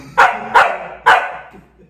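Three sharp, loud dog barks come close together near the start, each ringing briefly, with no talk over them.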